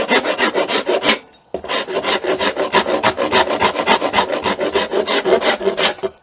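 Wood rasp shaping the handle of a handmade wooden self bow, a steady run of close, loud rhythmic rasping strokes with one brief pause near the start.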